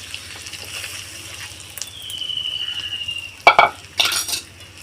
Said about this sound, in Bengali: দিয়ে চালটাকে একটু আমি ভেজে নেব এইভাবে